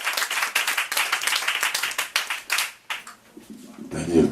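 Audience applause at an evening show of music and song, a steady run of dense clapping for nearly three seconds that thins out before a voice and music take over at the end.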